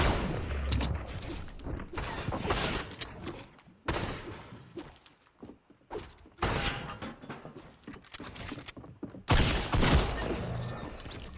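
Gunfire in a Fortnite solos match, with bursts of shots and impacts coming in clusters, loud and sharp, separated by brief quieter gaps across the stretch.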